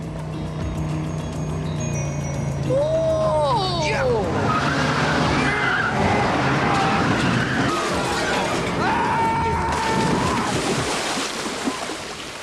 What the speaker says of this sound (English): Stop the car! You're going backwards!